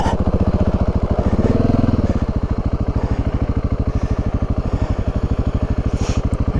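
Motorcycle engine laboring through deep sand on a desert backroad in Big Bend, Texas, with a loud, steady rapid thrum close to the rider and a brief surge in revs early on.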